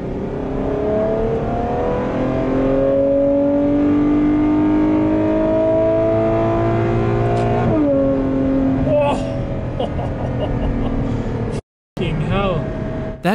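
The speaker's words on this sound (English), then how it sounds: "I'm going to go high up in the rev so you guys can hear it a bit." A Ferrari F12 Berlinetta engine revs loudly and steadily, its pitch climbing high under sustained throttle, with a sharp drop near the end and a brief cut before it picks up again, heard from inside the car.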